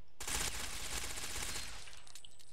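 Rifle fire in Ghost Recon Phantoms from a gun fitted with a barrel and silencer, a fast unbroken automatic burst of muffled rapid shots lasting about two seconds before stopping with a faint echo.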